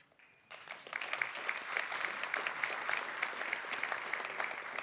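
Applause rises from the audience at an energy transition panel debate, with a burst of many hands clapping that quickly swells and then holds at a steady, dense level.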